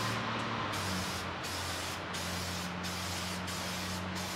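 Etching primer hisses from a spray can onto a Redcat RS10 Jeep RC car body in several short steady bursts separated by brief pauses, close and loud, with no voices.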